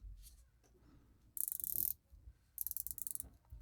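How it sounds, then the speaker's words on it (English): The rotating bezel of an Oceanica Stingray watch ratchets in two short bursts of rapid, crisp clicks, very close and quiet, with near silence between them. "Bezel action feels fine."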